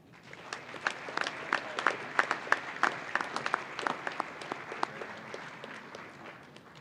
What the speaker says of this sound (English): could we have a round of applause for all of them, please?